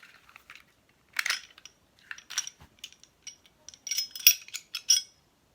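A Glock handgun being taken apart, with a series of quiet, sharp metallic clicks and scrapes coming in separate bursts against near silence, close and fairly faint.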